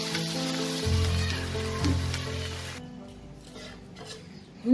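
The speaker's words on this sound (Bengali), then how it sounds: "এবার এতে আমি অল্প জল দেবো।" Water hits cauliflower stem vegetables frying in a pan and raises a burst of sizzling and stirring, with music audible underneath. The sizzle fades as the water settles, then a louder burst comes at the end.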